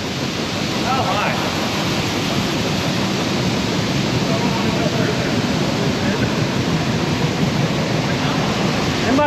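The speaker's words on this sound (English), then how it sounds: "It must really be pouring." Heavy rain pours onto a metal grain bin, a dense, loud, unbroken roar that fills the whole stretch with no pauses.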